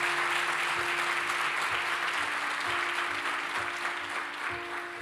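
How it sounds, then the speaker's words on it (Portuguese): A church congregation claps steadily for several seconds, a dense wash of applause with a faint sustained tone underneath, tapering slightly at the end. "Você pode dar uma salva de palmas a Jesus por isso?"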